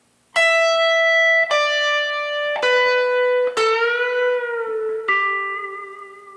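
Electric guitar lick: five clean, sustained notes in succession, one bent up a whole step and released, then a pull-off, ringing out clearly with no talking.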